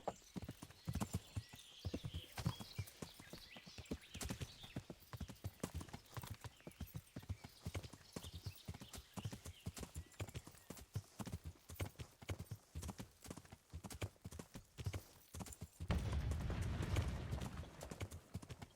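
Rapid, steady clip-clop of horse hooves in the video game Kingdom Come: Deliverance, loud and close, continuing throughout with a louder rumbling patch near the end.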